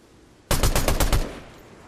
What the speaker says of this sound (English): Huey's shooting the tree.